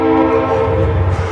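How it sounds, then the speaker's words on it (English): Train rolls past close by with a sustained loud horn tone over a rumbling, clattering undercarriage, steady throughout with no talking. "of course the train's going to go by right now"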